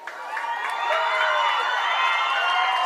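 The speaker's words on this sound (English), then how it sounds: "Celebrations from the crowd." A crowd cheers and shouts in celebration after a state girls' soccer championship, a continuous roar that swells and then holds steady.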